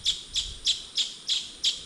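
Six quick, evenly spaced bird chirps repeat at a steady rhythm on a farm, fairly faint, in fine weather with no voices.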